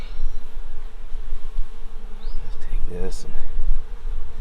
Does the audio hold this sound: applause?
no